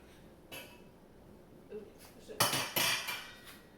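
A pot of used French fry oil with leftover fry crust gets handled in a kitchen, giving a few close metallic clanks and scrapes that build into a louder clattering burst near the end, with no talking.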